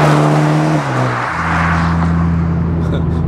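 A Toyota GR Supra 2.0 turbo four-cylinder pulls in sixth gear, a loud steady engine drone with a brief dip as the load changes before the tone rises again, heard from inside the car.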